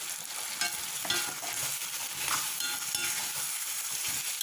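Mutton masala sautéing and being stirred in a pan, a continuous close sizzle with frequent scraping stir strokes throughout and no speech.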